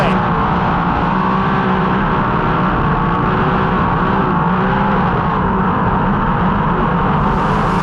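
Sprint cars race at the Knoxville Nationals, a loud, continuous roar of engines at full throttle running close together down the back straightaway with no break.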